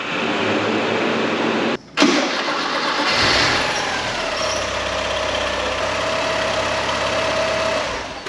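A Porsche 944 engine cranks and fires up after a timing belt and water pump job, turning over with a brief stumble before settling into a steady, close idle that runs on alone.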